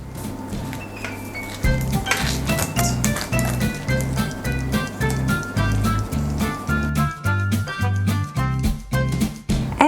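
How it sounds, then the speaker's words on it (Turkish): A knife cuts through a tray of cheese börek made with baklava pastry, with a rapid series of close taps and crisp crunches against the metal tray, over a faint background hum. "Baklava hamuru olduğu için ben önceden keseceğim, dilimleyeceğim ve porsiyonlayacağım."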